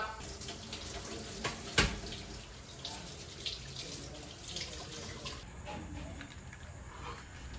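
A tap runs steadily as fish is washed under the water in a kitchen sink, with a continuous splashing hiss and one sharp clack partway through, while a person talks over it.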